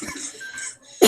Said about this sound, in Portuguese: Tô tossindo, corona.